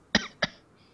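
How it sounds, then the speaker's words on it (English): Two short, close coughs from one person about a quarter second apart, followed by quiet room tone. "I'm still coughing."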